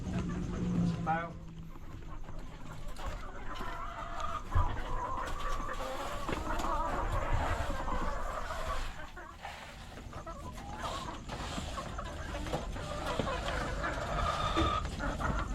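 Chickens cluck and murmur in a coop, soft scattered calls from several birds, while a person talks nearby.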